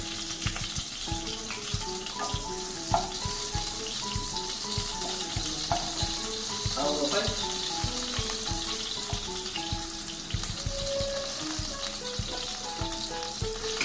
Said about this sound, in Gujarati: બીજી સાઈડ પણ આપણે આ રીતે સેલો ફ્રાય કરી લઈએ